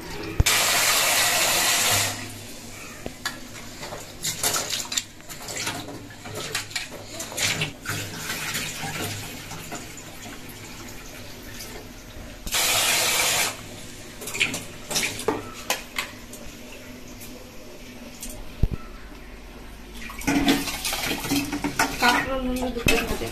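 Rice and cooking pots being washed under a running kitchen tap, with water gushing in loud bursts between clattering metal dishes and scraping, continuing for over twenty seconds with no voices.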